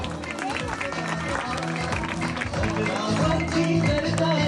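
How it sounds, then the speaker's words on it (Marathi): Loud, sustained crowd applause at a village school centenary silver-jubilee prize event in Kelus, greeting the second-place winner, with dense clapping and crowd noise throughout. "द्वितीय क्रमांक, जोरदार टाळ्या"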